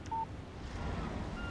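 A short electronic phone message alert chirps once near the start in Alan Wake Remastered, a brief bright tone over a low, steady game ambience.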